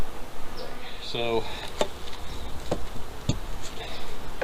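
Bees buzzing around hives fed on sugar water on a farm, a steady close hum with occasional louder fly-by buzzes, and someone briefly speaking over it.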